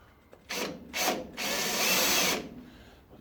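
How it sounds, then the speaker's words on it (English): A power drill bores into the body panel of a Mk V Ford Cortina under restoration, with a short burst, a second brief whir, then a sustained loud run of about a second before stopping, close up and without talk. "I'm going to have to drill it on it."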